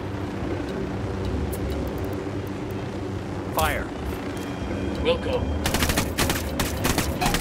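Machine gun fire in the video game Ghost Recon: Wildlands: dense bursts of rapid shots that build into a loud fusillade toward the end, over a background engine drone, with brief voices in between.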